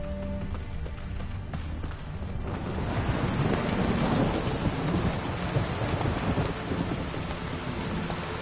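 Heavy rain pours steadily on an island, and the downpour grows louder and denser after a quieter start, with a rumble of thunder in the background.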